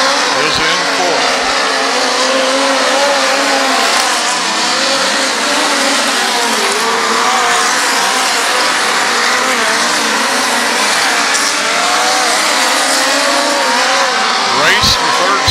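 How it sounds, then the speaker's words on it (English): Midget race cars roaring around Valley Speedway, engines whining and droning continuously with passing surges, while a commentator talks over the racing. "Race for third spot there between Robbins and the number 11."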